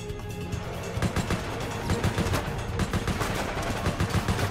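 Rapid gunfire from the video game Resident Evil Operation Raccoon City, loud repeated machine-gun bursts with sharp irregular shot peaks running throughout.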